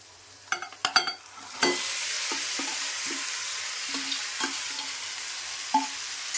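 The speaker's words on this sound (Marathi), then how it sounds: "आता मी चिकन पण टाकून घेते" A few sharp clatters come first, and then a loud, steady sizzle follows as chicken hits a hot Malvani masala tempering, with a spatula scraping and stirring the pan at intervals. The cooking is close up and no one speaks.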